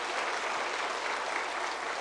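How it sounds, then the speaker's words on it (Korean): A church congregation claps for a missionary as a dense, even wash of applause that holds at the same level throughout. "그래서 우리 선교사님께 우리 감사의 박수 한번 드리겠습니다."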